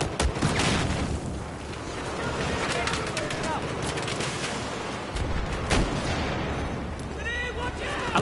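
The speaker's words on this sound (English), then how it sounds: "Throw a grenade!" A grenade goes off amid a Battlefield firefight, a loud boom among dense rattling gunfire and artillery-like blasts, with sharp shots cutting through and voices talking underneath.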